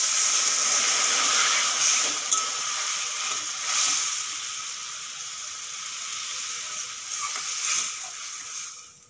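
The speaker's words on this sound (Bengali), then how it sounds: "এখন দিয়ে দেবো জল" Spiced egg curry with potatoes frying in a pan as water goes in, giving a loud, steady sizzling hiss that bubbles on throughout and eases slightly toward the end.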